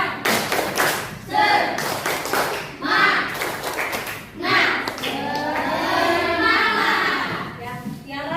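Schoolchildren in a classroom perform a rhythmic spirit clap, crisp repeated claps and thumps in a quick pattern mixed with chanting young voices, followed by a teacher's speech.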